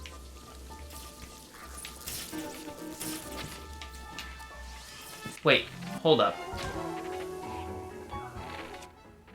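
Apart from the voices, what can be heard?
rain in a video game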